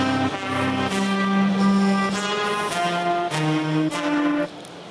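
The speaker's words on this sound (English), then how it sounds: "So now say that you go on Overtune and you find a set of horns." AI-generated horns from the Overtune music app play a sustained brassy phrase of held, overlapping notes with a few accented attacks, loud and alone with no voices, ending abruptly.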